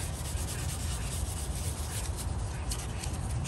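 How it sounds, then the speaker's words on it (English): A rusty blade from a vintage Milwaukee circular saw is scrubbed with steel wool and WD-40, giving a continuous, close, loud abrasive rubbing with no pauses and no talk. "then with the steel wool."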